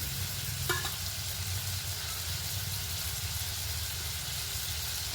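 Potato pieces frying lightly in a pan in a village kitchen, a soft continuous sizzle with a low background hum, one faint clink near the start and no talking.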